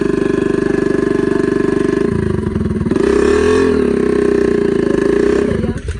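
A motorcycle engine labours while pulling a trolley loaded with soil, idling loud and close with a rough throb before revving and straining under the load, then easing off near the end.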